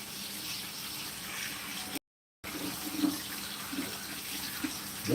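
Water runs from a tap during a small wash at a sink, a steady hiss of flow broken by a brief gap, with soft splashes and clinks toward the end.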